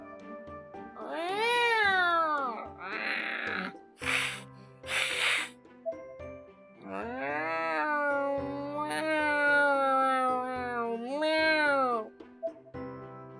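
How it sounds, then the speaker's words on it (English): A cat in the horror game Corpse Party: Blood Drive lets out long, drawn-out meows and yowls, loud and close, rising and falling, with hissing spits between the cries. "The purring cat suddenly turned violent, scratching the hell out of my hands and arms."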